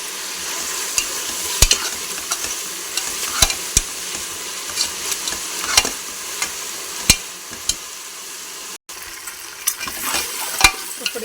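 Mint, coriander and turmeric sizzle in a pan for mutton curry, with a steady frying hiss and sharp, repeated clinks and scrapes of a stirring utensil throughout, no voices.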